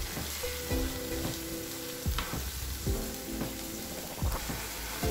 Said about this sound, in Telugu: ఇప్పుడు ఉల్లికారాన్ని నెమ్మదిగా ఇలా కలుపుకుందాము దొండకాయ ముక్కలు విరిగిపోకుండా